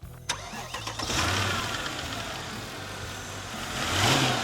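Vintage car in a royal garage cranks with a sharp click, then the engine catches and settles into a steady, smooth idle before a brief rise in revs, recorded close up with no talking.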